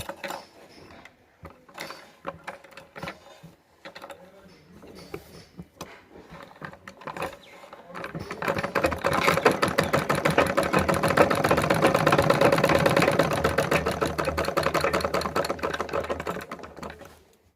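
A sewing machine stitching a blouse runs in a fast, steady mechanical clatter for about ten seconds, close and fairly loud, after a stretch of sparse clicks and handling noises.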